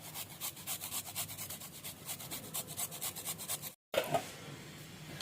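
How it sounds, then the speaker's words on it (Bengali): Ginger being grated for a shrimp, potato and capsicum curry: a steady run of rhythmic rasping strokes, close and fairly loud, broken by a brief silence before a few more scrapes. "আদা গ্রেট করে দিয়ে দেবো"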